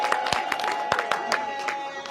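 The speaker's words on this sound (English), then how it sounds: "So let's clap for the women first." Applause for the women at a political gathering: scattered, sharp claps from a crowd over a busy background hum, with voices and some tonal sound mixed in.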